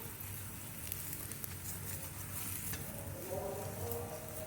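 A chapati fries in oil on a pan, giving a steady, close, dense sizzle that crackles on without pause, with faint speech rising near the end.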